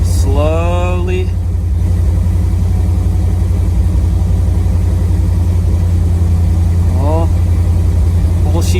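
A 1979 Jeep CJ-7 engine runs steadily just off choke, a loud, continuous low rumble held slightly above idle, with someone talking over it in the first moments and again near the end.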